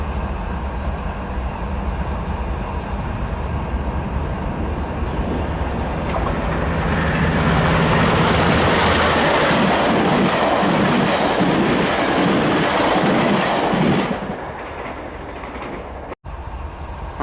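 A passenger train, a reverse set with the locomotive leading, passes near Commerce, rising from a distant rumble to a loud roar with rhythmic clickety-clack of wheels before fading.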